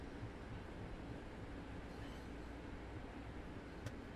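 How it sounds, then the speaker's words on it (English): A commuter train on the Long Island Rail Road in Train Sim World 4 rolls across an overhead flyover, a steady, continuous rumble that holds at an even level throughout with no voices. "It's the train coming over the flyover up there."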